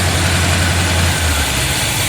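A small-block Chevy 350 V8 idles in a 1987 Dodge Dakota while warming up, its carburetor throttle not returning properly. It holds a steady, close, low rumble throughout with no talking.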